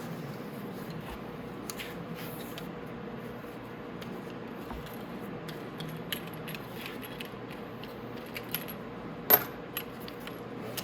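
A worn zip cutting disc is swapped on a cut-off tool while fabricating a motorcycle exhaust: sparse, quiet metallic clicks and light jingles, ending with one sharper clink near the close.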